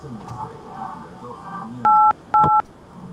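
Two short electronic telephone keypad dialing tones sound clearly in quick succession over faint background voices and room murmur.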